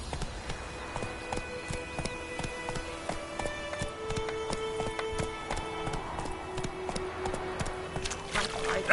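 The horse Roach galloping in The Witcher 3: Wild Hunt, a steady rapid clip-clop of hooves running continuously, fairly quiet and mixed with game ambience and tones.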